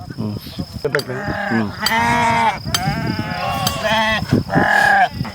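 A ram and sheep in a large flock herded by nomadic shepherds bleat repeatedly and loudly, overlapping calls coming close and near-continuous.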